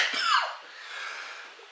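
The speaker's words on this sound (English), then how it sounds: "cough up a lung there" A single harsh cough bursts out close and loud, then fades into a short breathy exhale, heard alone with no talk over it.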